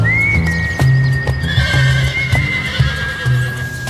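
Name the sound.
thoroughbred horses neighing and hooves clip-clopping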